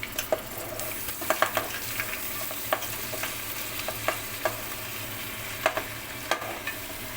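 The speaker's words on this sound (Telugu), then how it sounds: "ఇప్పుడు మనం కడిగి పెట్టుకున్న తలకాయ ముక్కలైతే వేసుకుంటాం" Washed goat head pieces tossed into a hot frying pan for a goat head curry, giving a steady soft sizzle with scattered sharp pops and light stirring clicks throughout.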